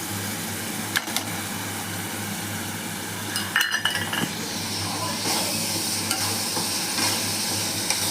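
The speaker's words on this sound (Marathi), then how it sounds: "आता हे टॉमॅटोची आणि आलं लसूणची पेस्ट त्याच्यात टाकायची." Onion sautéing with tomato and ginger-garlic paste, a continuous sizzle under repeated stirring scrapes and a few clinks of a spoon against the pan.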